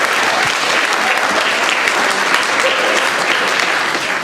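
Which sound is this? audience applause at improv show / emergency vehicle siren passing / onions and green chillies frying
audience applause at improv show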